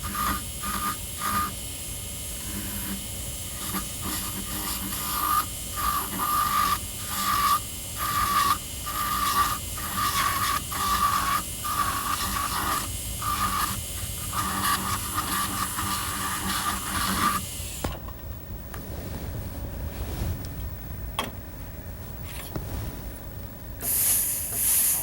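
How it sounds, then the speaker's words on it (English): A dental burr polishes an amalgam filling with a continuous high whine and pulsing drill tone, steady and close, cutting out near the end. "You can also work along the margins with your large burr if you'd like to get them even more even."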